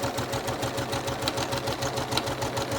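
A sewing machine runs continuously, stitching fabric for a face mask, its needle producing a fast, even mechanical chatter close to the listener, with no voices.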